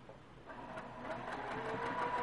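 A sewing machine stitches binding onto a quilt with a quiet, steady mechanical whir that builds slightly in the background, with no voices.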